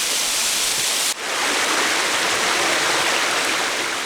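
A waterfall in a valley among the twelve waterfalls of Geumsan, Chungnam, gives a loud, steady, close roar of rushing water with a brief dip near the start, and no voices.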